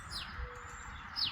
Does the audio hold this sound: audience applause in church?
no